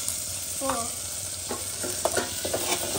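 Chopped ridge gourd frying with onions in a pan makes a soft, steady sizzle, broken by several sharp scrapes and clinks of a spoon stirring the curry, with no voices.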